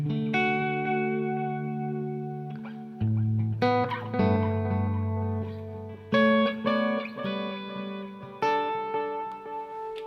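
Electric guitar run through a Halo delay pedal plus auxiliary reverb, a series of sustained chords and plucked notes blooming into soft repeating echoes, close and clear with no voices.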